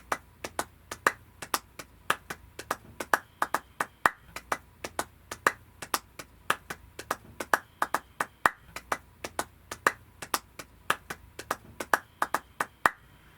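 A rap track beat whose only drum is a sharp clap, struck in a steady repeating rhythm throughout, crisp and prominent over a quiet, low musical bed, with no voices.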